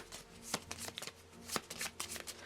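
Marvel Champions game cards being shuffled by hand at close range: quiet, crisp riffling bursts of paper flutter in quick succession, with faint clicks between riffles.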